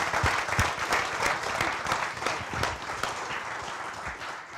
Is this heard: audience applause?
yes